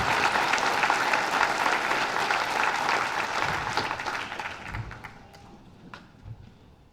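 Sustained applause from an audience at a Milwaukee Police merit awards ceremony, dense clapping that gradually thins and fades out over several seconds, with a few scattered claps at the end.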